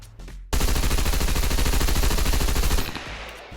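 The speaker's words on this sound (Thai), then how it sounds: "โอเคลองยิงดูนะครับ" Rapid automatic gunfire from a weapon in the survival game SCUM, a loud, dense burst of shots lasting over two seconds and then cutting off, with no talking.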